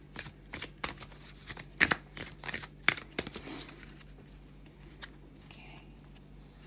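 A deck of oracle cards being shuffled up close, a quick run of crisp riffling snaps and slaps in bursts, loudest near the start, then thinning to softer handling.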